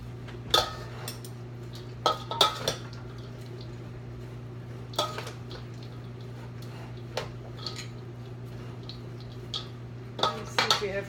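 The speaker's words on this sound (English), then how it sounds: "you have to mix it good so that the noodles spread into the" Brown rice noodle salad being tossed with vegetables in a bowl, with scattered soft clinks and scrapes of utensils against the dish over a low steady hum, sometimes clustered and sometimes spaced apart.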